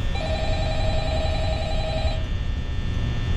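A phone rings in the FNAF free roam horror game as the phone guy calls in, a steady electronic ringing tone held for about two seconds and then stopping, over constant background hum.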